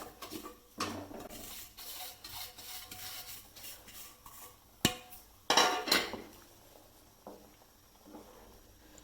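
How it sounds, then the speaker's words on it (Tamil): Roasted semolina being stirred in a pan with ghee for ghee kesari, giving soft scraping and rubbing sounds broken by a few sharper knocks of the spoon against the pan, close and moderately quiet. "இப்போ தான் ஒன்று போல் கிளறிக்கிட்டு இருக்கேன்."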